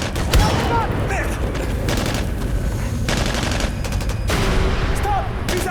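Dense gunfire and machine-gun fusillades crack and boom throughout a Navy SEALs action film scene, rapid overlapping bursts at close range with shouting voices mixed underneath.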